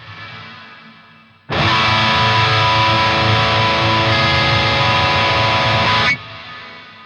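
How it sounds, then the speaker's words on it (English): An electric guitar chord through a flanger and reverb effect on a Mooer GS1000Li rings out with a swirling, washy sound and heavy sustain, starting abruptly and cutting off after a few seconds. "Flanger reverb, that's fun."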